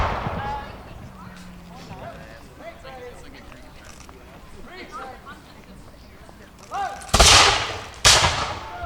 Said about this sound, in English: the troops are firing at the approaching flanking columns